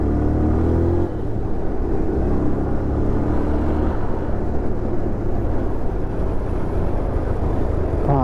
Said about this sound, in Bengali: রোডের মধ্যে প্রচুর জ্যাম আছে এখন।